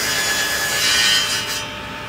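A hand saw cutting through Australian camphor laurel and Western Australian jarrah timber for toymaking, the blade wrapped in packing tape; a continuous close rasping stroke for about two seconds, alone and fairly loud.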